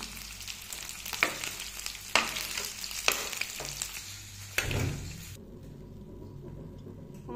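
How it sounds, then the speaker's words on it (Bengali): Black pomfret fish frying in oil in a pan: a dense, close sizzle broken by a few sharp pops and utensil knocks, then dropping to a quieter hiss near the end, with no speech. "মাছগুলো ফ্রাই করে নিচ্ছি"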